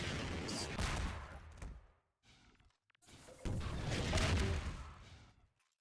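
In Half-Life 2: Deathmatch on the Biohazard map, loud bursts of weapon fire and blasts come in two dense clusters split by a short, near-silent gap.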